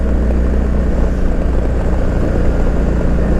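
Kawasaki Vaquero bagger motorcycle engine droning loud and steady while accelerating through a long sweeping bend, heavy continuous low rumble mixed with rushing wind, no talk.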